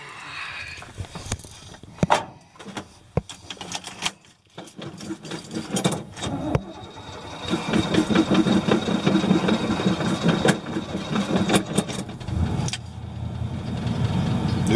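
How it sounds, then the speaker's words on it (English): Engine of a 1979 K20 Custom Deluxe square-body truck running with a squealing alternator pulley, a few close knocks at first, then a steady rough idle with a raspy, whining edge that continues to the end. "Now I've got a alternator pulley squealing right now."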